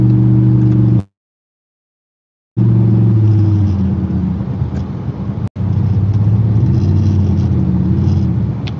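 A car drives past on a road, a steady loud low engine rumble that cuts out briefly, then returns and carries on.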